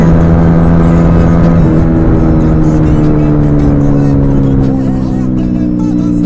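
A small 125cc motorcycle engine pulls steadily, its drone holding close and loud throughout while the pitch rises and falls slightly, with a faint whir beneath it.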